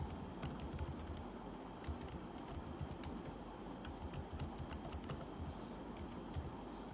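Steady, rapid typing on a computer keyboard, a continuous patter of close key clicks over a faint background hum, with no voices.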